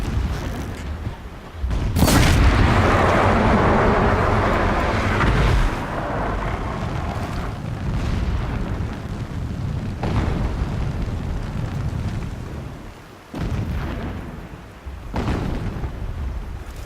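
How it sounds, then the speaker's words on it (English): Distant explosions rumble through a Horizon Zero Dawn game scene: a loud booming burst at about two seconds swells into a sustained roar, followed by further muffled blasts and low rumbling across the span, with no voices. "Explosions in the distance."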